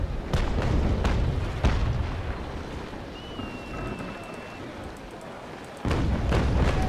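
Booming cannon shots from sailing warships in the naval combat game Naval Action, a few heavy blasts near the start and a louder burst near the end, over a steady wash of sea and wind.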